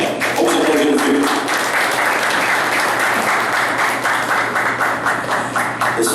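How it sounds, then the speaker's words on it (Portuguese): An audience at a liberal political league's national meeting applauds a speaker, giving a dense, sustained round of clapping from many hands that holds steady throughout. "Vamos aplaudir o Vitor."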